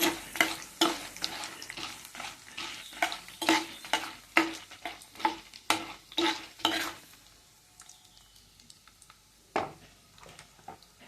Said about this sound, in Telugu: తాలింపు పెట్టుకోవాలి